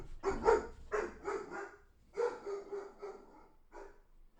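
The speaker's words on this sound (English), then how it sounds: "Dog just doing his job." A dog barks repeatedly nearby in two bursts of short, sharp woofs, several quick barks, a brief pause, then more barks trailing off, with no speech over them.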